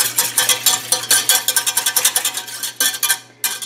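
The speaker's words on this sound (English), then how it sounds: "Cornstarch into the cold pineapple juice. And I want to make sure that I mix that together really well" Utensil whisking cornstarch into cold pineapple juice in a bowl, a fast run of clinking, scraping strokes with a steady rhythm, close and fairly loud, with no talking.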